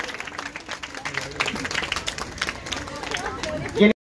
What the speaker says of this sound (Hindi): तालियां बसी रहनी चाहिए दोस्तों।